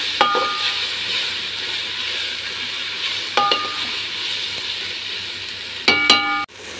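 Curry with two spoons of chili powder being stirred in a pan with jackfruit seeds, brinjal and tomato: a constant close sizzle with a few sharp metallic clinks of a spoon against the pan.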